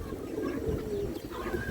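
An old Bradlen-breed male pigeon coos in low, soft, rolling phrases close by, repeating over a faint background murmur.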